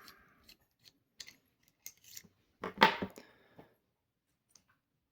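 Small metal bolt being unscrewed from the back end cap of a bolt action pen, heard as a series of sparse, close clicks and scrapes with one louder grinding twist in the middle.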